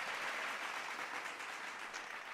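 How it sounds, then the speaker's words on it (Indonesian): An audience at an online talk applauds, giving a faint, dense wash of clapping that holds steady throughout with no voices over it. "Mohon tepuk tangannya, teman-teman semua."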